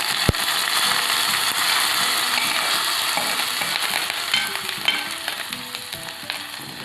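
A hot tempering of red chilies and curry leaves for beetroot, cucumber or ginger kichadi sizzles and crackles loudly at first, then settles into scattered pops and a fading hiss.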